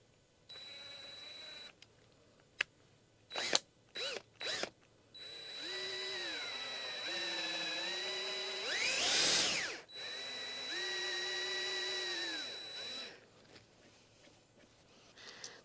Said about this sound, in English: I'm going to get a larger drill bit, and I'm going to make that hole a little larger